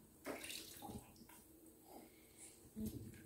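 Quiet water splashes and trickles in a newborn's bath as the hair is rinsed, a few soft scoops and drips close by, faint overall, with no clear talking.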